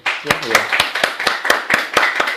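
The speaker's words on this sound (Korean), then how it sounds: "우리 감사함을 박수 한번." Members of a church congregation clap together in thanks, sharp distinct claps in a loose, fairly regular rhythm close by, with a voice speaking briefly near the start.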